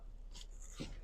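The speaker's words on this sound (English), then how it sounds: "That's my dog, Kobe." A dog whimpers softly in a quiet car cabin, a couple of faint high whines and a short breathy sound, heard alone and at low volume.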